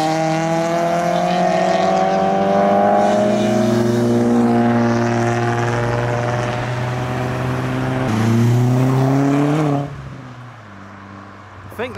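A modified Volkswagen GTI pulls away from a car meet, its engine note climbing steadily through the gears with a brief dip as it shifts, then fading quickly into the distance.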